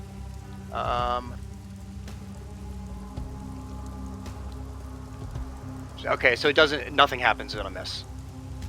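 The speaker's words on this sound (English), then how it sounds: "it's rainy, it's thunder, there's thundering sounds all around you" Rain ambience in a Dungeons & Dragons session, a steady hiss of falling rain running throughout beneath a voice, which talks briefly near the start and again toward the end.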